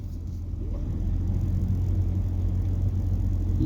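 A car creeps up a driveway in a garden toward a fallen tree, its engine giving a steady, close, low rumble that holds at an even level throughout with no talking.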